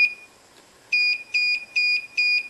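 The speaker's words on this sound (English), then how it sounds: "if I break the beam, it sets off the alarm." An Arduino laser trip wire alarm beeper sounds four short, shrill beeps in a quick even rhythm after a brief tone, fairly clear against quiet background.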